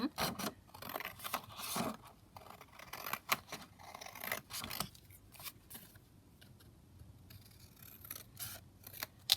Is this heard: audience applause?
no